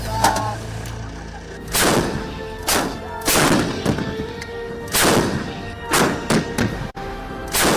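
Indian Army artillery guns fire during a drill at Pokhran, a rapid series of heavy booming thuds, roughly one every second, each ringing out across open ground, with no talk.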